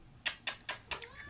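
A cat meows indoors, four short repeated calls in a steady rhythm, moderately close and fairly quiet, with no talk over them.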